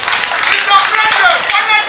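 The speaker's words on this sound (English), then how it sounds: "Let's give her another round of applause" Brief burst of dense crowd applause for a Minister of State at a government solar lighting project launch ceremony, steady and fairly loud throughout, with possible voices mixed in.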